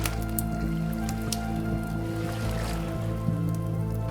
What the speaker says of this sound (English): So to turn the flour into dough, all you have to do is add water.